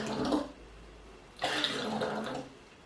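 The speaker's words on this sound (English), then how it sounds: "Okay, we have more water. I put it inside." Water poured into a container while making Nord mead, two separate pours with a pause between them, each a close, steady splashing rush that lasts about a second.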